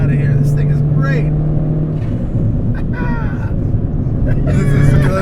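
A modified turbocharged 2013 Mini John Cooper Works GP engine drones steadily under load while driving, a low throaty hum with slight pitch shifts, heard from inside the car beneath ongoing talk.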